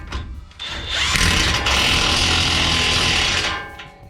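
An impact wrench tightening a tie rod end nut on a Ford F150 spindle during a suspension drop install: a close, loud whirring burst of about three seconds, starting up and stopping cleanly with no talk.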